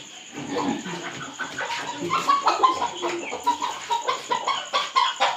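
Desi and crossbred village chickens cluck and murmur repeatedly close by, a busy rhythmic series of short calls with no talking.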